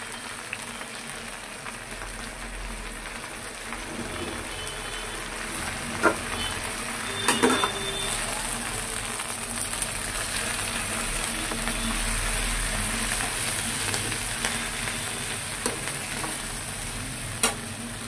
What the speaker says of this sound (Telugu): మళ్ళీ గోంగూరని కొంచెం కొంచెంగా నిలవ పచ్చడి కాబట్టి కొంచెం కొంచెం వేసుకొని ఫ్రై చేసుకోవాలండి